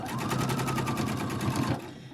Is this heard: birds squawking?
no